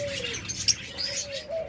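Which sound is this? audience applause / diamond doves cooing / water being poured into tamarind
diamond doves cooing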